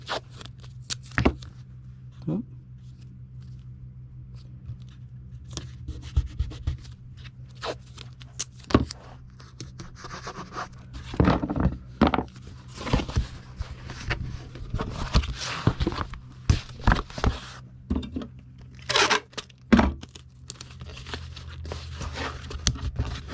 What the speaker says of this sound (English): We'll tape these down.